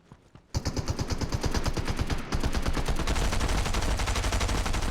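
Rapid bursts of DMR rifle gunshots in Fortnite zero-build squads, first a quick string of sharp cracks, then a dense, sustained volley of overlapping shots, loud and close.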